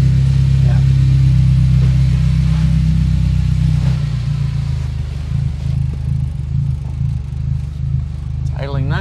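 A car engine idles with a steady low rumble close by, holding an even tone throughout. Voices talk over it, and a brief squeak comes near the end.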